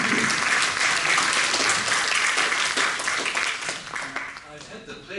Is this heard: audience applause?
yes